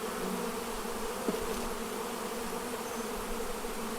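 Honeybees in a nuc hive make a steady, soft, continuous buzzing drone with no breaks, heard close and alone.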